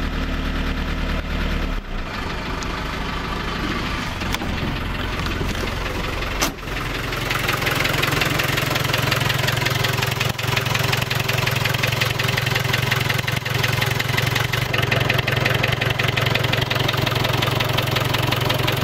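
An Iveco van engine idling just after starting, with a steady, loud mid-low rumble and some knocking texture; a brief irregular stretch early on before it settles into a constant idle.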